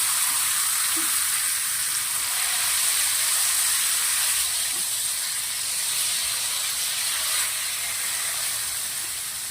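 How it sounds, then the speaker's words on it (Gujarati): Raw banana wafers deep-fry in hot oil, producing a loud, dense, continuous bubbling hiss that holds steady for several seconds with no talking. "આ નાખ્યા પછી આપણે 2 મિનિટ જેવું પાછું તરી લેવાનું છે."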